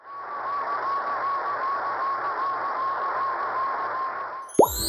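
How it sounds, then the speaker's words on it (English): A sound effect of a satellite transmitting data back to Earth: a steady electronic hiss with a wavering tone and a faint pulsing buzz beneath, ending in a quick sweeping chirp. "It's the sound of a satellite transmitting data back to Earth."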